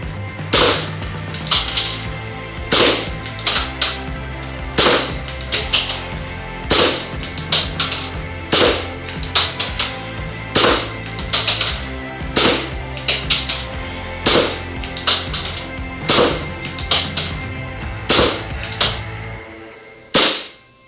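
An airgun fires repeatedly in a steady rhythm. Sharp, loud cracks come roughly every second or so over about twenty seconds, with a mechanical hum underneath and no talking.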